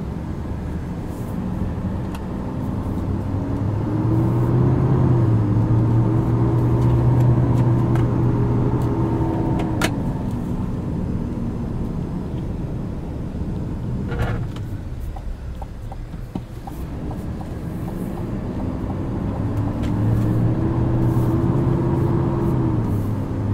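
A 2024 Chevrolet Silverado 2500HD ZR2 with a Duramax diesel engine drives on the street while towing, its steady engine drone rising and falling through gear changes over continuous road noise.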